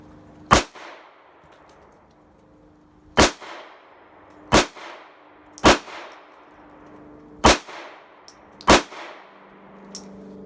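Six sharp, loud gunshots from a Smith and Wesson Bodyguard 380 pistol firing hollowpoint rounds at a range, spaced irregularly about one to two seconds apart, each a crisp crack with a short ringing tail and no talk.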